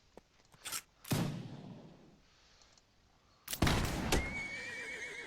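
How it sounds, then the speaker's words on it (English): A video game horse whinnies after being hit, with sharp impacts, then a loud shrill neigh trailing off over faint ambience. "Fortunately, it was just the horse that was hit, not us."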